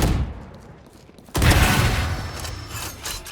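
Gunfire in the video game Valorant bursts in suddenly after a quieter stretch, a loud close volley followed by a lingering noisy tail and a smaller later shot.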